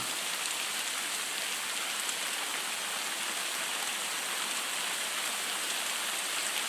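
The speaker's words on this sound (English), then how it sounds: "Now the hail should be big enough you can see it." A continuous, even roar of hailstones drumming on canvas tent fabric, thick and unbroken throughout with no voices.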